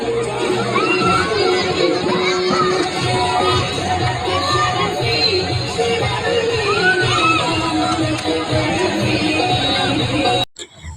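A crowd shouts, whoops and cheers while having fun at a resort pool, a dense, loud and continuous wash of voices that includes children, cutting off abruptly near the end.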